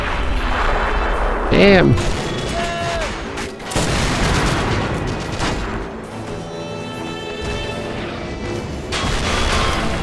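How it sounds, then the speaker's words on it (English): Artillery fire in a war video game, with heavy booms and crashing blasts rolling through the scene while someone talks over it. "the attack artillery support is still firing"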